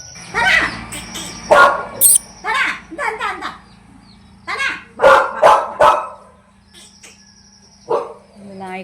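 A pet dog barks in several loud bursts near a home kitchen while a person talks between and around the barks, with a steady background hum throughout.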